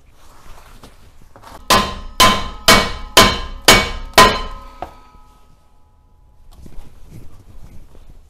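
Six sharp metallic hammer blows ring out in a steady rhythm during suspension removal on a BMW E24 635CSi, each with a bright clanging decay, followed by quieter faint knocks.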